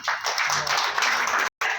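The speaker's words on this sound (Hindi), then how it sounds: "इस बात पर ताली बजनी चाहिए।" An audience at an Eid Milan gathering in Jalna claps together in a short burst of dense, loud applause, with a brief cutout near the end.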